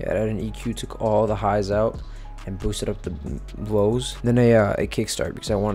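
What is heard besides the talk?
None of the usual background noises is heard.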